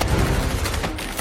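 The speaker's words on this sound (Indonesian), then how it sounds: "langsung terjadi lagi lah baku tembak dan baku hantam" Gunfire rattles in a film shootout with terrorists inside a White House building. Dense, loud bursts of rapid shots overlap with booming impacts for the whole brief moment.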